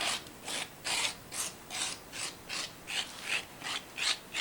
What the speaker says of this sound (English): on the lip of this, I'm going to score, rough it up a whole lot